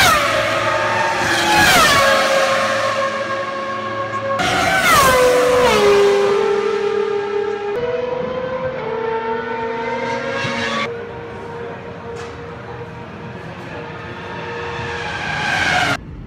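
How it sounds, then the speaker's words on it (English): Formula One racing cars scream past at a Ferrari Mondiali event, several loud high-revving pass-bys in a row, each whining pitch dropping sharply as the car goes by, with no talk over them. "these Formula One cars are seriously quick and seriously loud."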